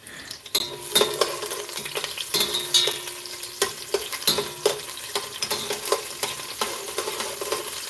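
Onions frying in a pan for chicken with coconut milk and vegetables, a bright crackling sizzle under frequent clacks and scrapes of a utensil against the pan.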